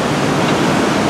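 Steady, broad rushing roar of a waterfall in Bellano near Lake Como, constant and fairly loud with no voices over it.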